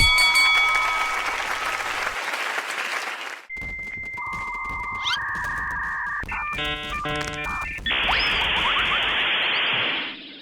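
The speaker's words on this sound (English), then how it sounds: "I added a cheering sound effect for the audience" Crowd cheering added as an audience effect in a hand-tracked boxing video game: a dense, loud roar for about three seconds that cuts off abruptly, followed by synthetic electronic tones and chime-like game sounds.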